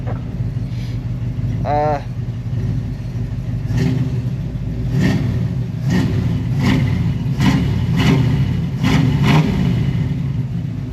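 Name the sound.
Chevy 283 small-block engine running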